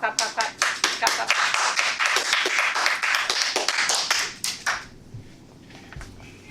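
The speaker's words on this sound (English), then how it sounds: "Clap, clap, clap, clap, clap, clap, clap, clap, clap, clap" A small Toastmasters meeting claps to welcome the evening's timer, a few separate claps building into brief close-range applause that tapers off after about five seconds into room quiet.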